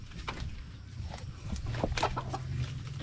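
Chickens cluck and murmur nearby in short scattered bursts, with a rooster-like call rising partway through over faint background noise.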